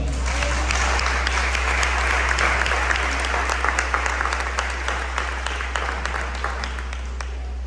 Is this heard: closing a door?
no